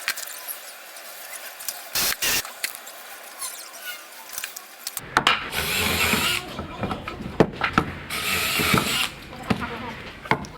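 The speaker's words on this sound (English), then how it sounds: "we needed to drill some holes using a Forstner bit" A Forstner bit bores holes into wooden brace pieces for lag screw head clearance during an exterior wall repair. After about five quiet seconds, a loud, close grinding whir starts and rises and dips in bursts.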